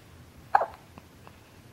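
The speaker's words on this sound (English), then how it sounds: "Got the hiccups, buddy?" A child gives a single small hiccup, close and fairly soft, followed by faint quiet sounds in a still room.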